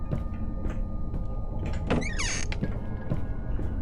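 Door protected with metal bars in The Butterfly horror game, opening with a brief scraping, clanking slide near the middle over a quiet ambient background.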